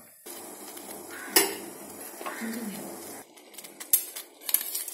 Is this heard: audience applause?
no